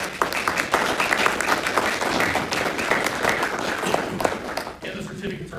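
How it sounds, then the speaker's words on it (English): Applause at a school board meeting, a room of people clapping steadily and then tapering off, with voices under the clapping and speech resuming at the end. "I would hope that everybody can join me in just a little round of applause to thank you for volunteering"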